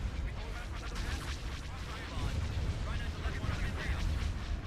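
Squadrons of old Y-Wing starfighters volley torpedoes in a Star Wars: Thrawn's Revenge space battle, a dense, continuous rumble of booming impacts and blasts rolling on without pause, with a voice talking over it.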